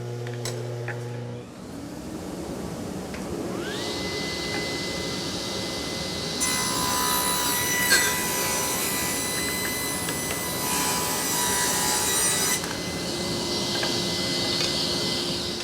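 Table saw cutting wood stock for Shaker boxes: the motor spins up to a steady whine, then a loud, harsh cutting roar runs for several seconds through the board before easing back to the idle whine.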